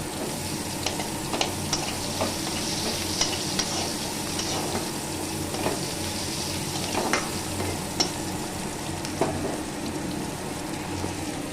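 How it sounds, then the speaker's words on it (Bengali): Nigella seeds, onion and green chili sizzle steadily in hot oil while a spoon stirs them, with soft scraping clicks recurring over a continuous close frying hiss, no voices. "কালো জিরে, পেঁয়াজ, লঙ্কা নাড়তে হবে।"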